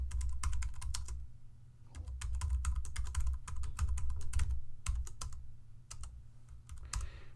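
Computer keyboard clacking steadily as code is typed, close and fairly loud, with irregular bursts of keystrokes, brief pauses, and a low hum underneath; no talking.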